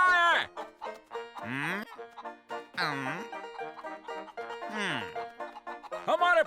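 Cartoon chickens in The Daltons cluck and squawk in a series of loud, pitched bursts, separated by short pauses, with no other sound around them.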